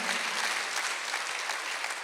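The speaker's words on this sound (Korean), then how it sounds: "박수 한번 하세요." A church congregation at a Sunday worship service breaks into brief, dense, steady applause, loud and close, with no voices over it.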